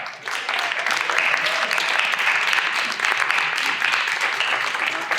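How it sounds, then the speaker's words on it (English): An audience at a conference panel applauds the panelists, steady, full applause building quickly and holding loud for about five seconds, with a voice faintly audible underneath. "Round of applause, please, for our panelists."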